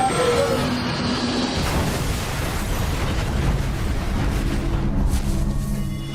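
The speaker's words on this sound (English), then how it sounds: "The fiery explosion and sudden impact with the ground has all but obliterated Flight 2120." A deep, sustained roaring rumble of a plane crash explosion, loud and broadband, lingering as a heavy continuous boom with no voices.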